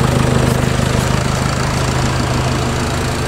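A Nissan X-Trail diesel engine idles inside a garage, a loud, steady low rumble with a regular rapid pulse throughout, close and without any voices.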